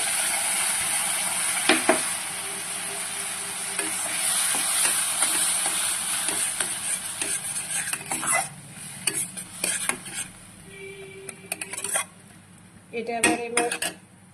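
Onion, garlic and ginger paste frying and sizzling in a pan, with a spoon repeatedly scraping and stirring against the metal, sharp clatters toward the end.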